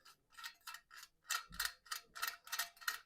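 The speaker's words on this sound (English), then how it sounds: "you're going to run your bolt all the way through the riv nut" A ratchet drives a bolt all the way through a riv nut while capping fixings, giving a close, steady run of rhythmic clicking bursts with no talk.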